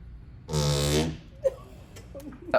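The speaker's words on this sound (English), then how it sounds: "It was a wonderful fart." A single loud, drawn-out fart lasting about half a second, followed by quieter clicks and small bumps in a room with no talk.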